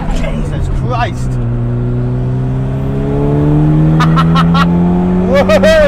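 Ford Sierra Sapphire Cosworth engine pulling hard from first into second gear, a loud, steadily rising rev with a brief dip at the shift, close and continuous, with a voice speaking briefly over it.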